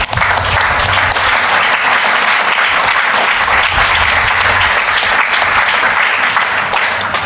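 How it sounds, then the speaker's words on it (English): A conference audience gives loud, dense applause for a curator taking the stage at a talk, the clapping steady and full from start to finish. "a round of applause for Hans-Ulrich."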